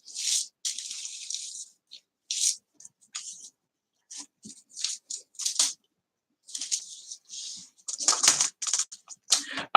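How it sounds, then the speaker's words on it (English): Clicky keystrokes on a computer keyboard at a Dell machine in a computer lab, coming in irregular quick bursts with short pauses, close and fairly crisp, with no talking. "Keyboard."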